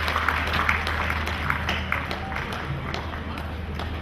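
Applause from a crowd at a Deepavali community gathering, a dense steady patter of many hands clapping throughout with a low hum of the hall beneath and a faint voice briefly audible.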